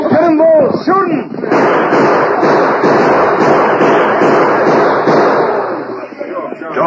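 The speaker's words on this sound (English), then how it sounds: "Don't shoot that gun!" Rapid gunshot sound effects ring out in a 1942 Lone Ranger radio western, a dense, loud barrage of cracks and booms filling nearly seven seconds, with shouting voices heard over the start.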